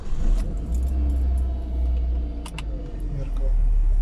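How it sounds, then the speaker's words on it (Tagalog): A 1997 Mitsubishi Lancer's engine is started with the key, a low rumble building and settling into a steady idle with a brief jangle of keys, close by, alongside a voice. "So start natin yung makina."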